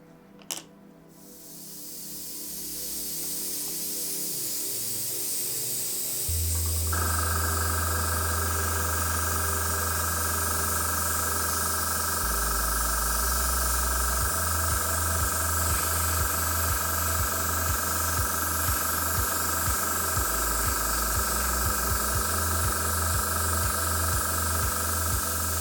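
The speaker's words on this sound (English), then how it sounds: "I'm going to airbrush it on with mainly air and a little bit of colour" Airbrush spraying paint, mostly air with a little colour, onto a CNC-cut, 3D-printed and scratch-built TARDIS console room diorama: a steady, continuous hiss running throughout, with a compressor hum shifting underneath.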